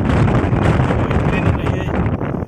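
Strong wind on the Bhandara hills buffets the microphone in a continuous low roar, loud and close throughout.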